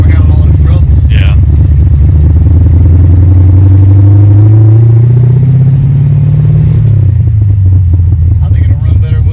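Engine running with its air cleaner removed, loud and close with a steady low rumble that rises and falls in pitch, heard under people talking.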